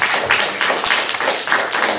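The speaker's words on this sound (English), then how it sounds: "So a big round of applause please to Emily in Year 2 for her home learning this week." Applause from an audience in a school hall during an assembly, a steady patter of many hands clapping in quick irregular bursts that stays fairly loud throughout.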